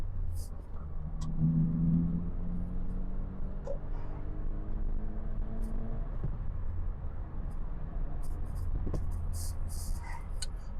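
A classic Metro 998 with a tuned SU carburettor accelerating up through the gears from a roundabout, its small engine droning and rising in pitch from inside the cabin, with a low rumble underneath and brief clicks near the end.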